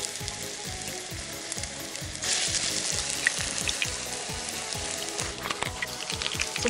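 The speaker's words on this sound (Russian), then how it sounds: "С одной стороны обжарила, теперь обжариваю с другой." Chicken and zucchini patties fry in sunflower oil in a very hot pan, a loud, steady crackling sizzle that swells and grows brighter about a third of the way in, with no talking.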